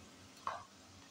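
Ginger paste dropped into a sizzling pan of cooking turnips and peas gives one short, soft splat and hiss over a faint, steady low background, with no voices.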